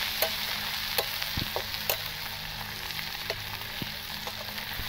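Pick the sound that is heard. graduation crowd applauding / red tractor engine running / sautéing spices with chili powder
sautéing spices with chili powder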